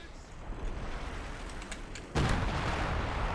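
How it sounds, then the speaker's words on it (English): Howitzer shells landing on a headquarters in Company of Heroes 2, distant thuds and crackles followed by one sudden heavy explosive impact that lingers, with a voice talking underneath. "rounds from that howitzer just continue to land on top of the headquarters"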